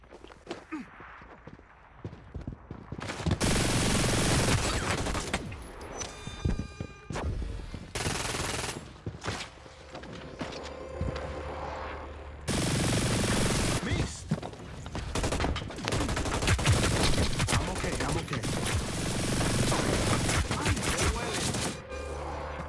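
A minigun in the shooter Hyper Scape rattles in long rapid bursts with short pauses between them, loud and close, as other game effects sound around it.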